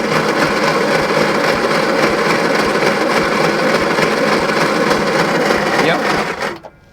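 An engine cranks over at full throttle for a compression test, a steady rhythmic churning whir holding for about six seconds before cutting off abruptly.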